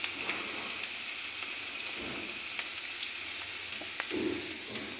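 Onion and garlic fry in a pan with a continuous crackling sizzle like light rain, moderately close, dotted with sharp spitting pops and a short bubbling burst near the end.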